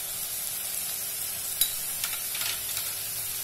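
Vegetables and sauce for Schezwan fried rice sizzle steadily in a pan, with a few soft scrapes and clinks as they are stirred.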